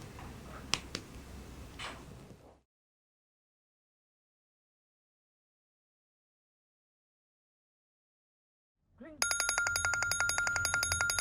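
An outgoing mobile phone call in an Indonesian TV drama: a few taps and handling noises, a long silence, then a steady, repeating electronic ringing tone starts near the end and continues.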